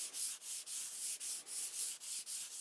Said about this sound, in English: And sanding, just like normal. Just go back and forth,